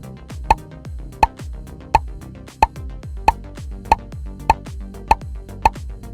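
Nine crisp bubble pops sound at a steady, even pace in a children's game, each a bright plop over soft background music.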